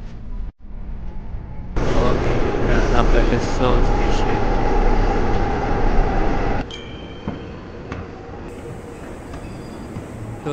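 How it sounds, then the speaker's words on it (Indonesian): Seoul subway train pulling into a station: a loud, sustained rumble and rush of wheels on rail that drops off as it slows, with voices talking nearby. "Okay, train dah nak sampai."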